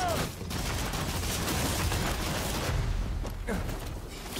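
Enemy gunfire rattles through a firefight in the video game Rise of the Ronin, dense overlapping shots and sharp cracks packed close together with a couple of heavier bursts near the end.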